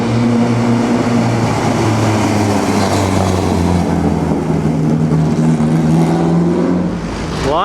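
A classic Lancia on the Mille Miglia road rally roars past nearby, its engine note loud and steady. Near the end the pitch shifts as the car draws away.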